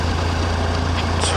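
A 2015 Triumph 1050 Tiger Sport motorcycle engine in third gear at low speed, a steady, loud, low drone running unbroken from start to finish.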